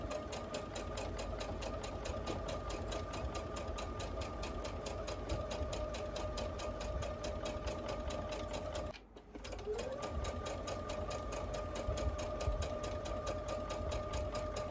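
A sewing machine stitches the sleeves of a jinbei made from a yukata, running in a fast steady mechanical rhythm up close, pausing briefly midway and then resuming.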